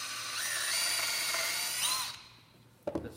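A power drill bores a hole with a high, whining whir that rises and shifts in pitch, then stops and is followed by a few clicks and knocks.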